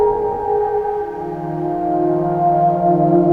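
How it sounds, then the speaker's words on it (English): Peak synthesizer fed through a Space Echo tape delay, sustained tonal chords with layered harmonics and a lower note swelling in, smooth and loud with no voices, for an ambient music piece. "I have here the sound of the peak. Peak goes then into the space echo there,"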